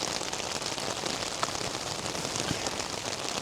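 Rain drums steadily on a tarp overhead, a dense close hiss of drops with a few sharper taps standing out, constant throughout.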